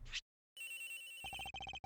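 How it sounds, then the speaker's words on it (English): A cell phone's electronic ringtone repeats in rapid pulses inside a locker in the Ace Attorney Investigations: Miles Edgeworth video game, clear and fairly close over a sustained game music tone, after a brief silence. "This has got to be the victim's cell phone."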